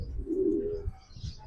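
A breeding pigeon from a champion line gives one close, throaty coo, followed by a few soft low thumps and faint rustling.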